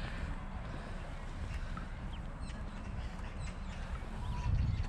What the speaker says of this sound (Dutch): Vandaag hebben we ganzen. En deze ganzen hebben kuikentjes.